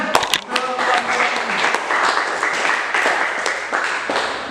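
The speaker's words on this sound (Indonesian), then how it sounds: "Ya, bagus, tepuk tangan." Classroom applause, several people clapping together in a dense, fairly loud burst that holds steady for a few seconds, with talk mixed in.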